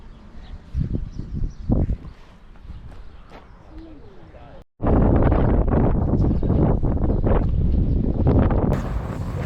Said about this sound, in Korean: 바람이 세차게 불어 시원함을 느끼면서 어, 걸어가고 있습니다.